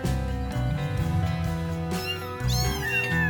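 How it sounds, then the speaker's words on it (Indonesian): A kitten meows in a few high, rising cries over steady background music, the calls close and fairly loud. "Ini adalah kitten ya, atau anak kucing."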